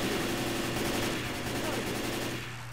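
Rapid automatic gunfire in Left 4 Dead 2 rattles in a dense, loud, continuous stream, easing off slightly toward the end.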